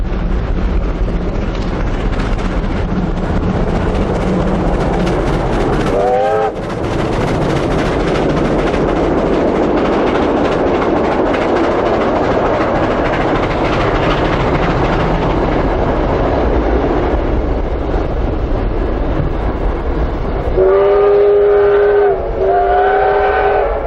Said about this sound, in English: Minutes later, at 17:24, R761 heads back to Melbourne with its special train.